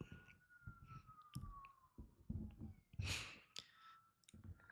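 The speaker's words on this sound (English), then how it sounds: "Oh, there's an ambulance." A faint ambulance siren passing outside glides downward in the distance, heard behind soft clicks, rustles and a breathy noise nearby.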